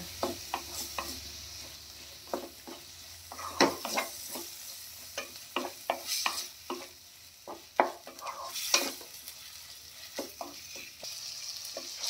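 Paneer for restaurant-style paneer bhurji frying in oil in a pan, a quiet sizzle punctuated by many sharp spatula taps and scrapes in an irregular rhythm, close by with no speech.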